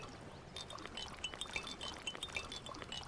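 Water being collected in Runescape Dragonwilds: soft continuous pouring and trickling with faint glassy clinks, quiet and steady throughout, with no talk.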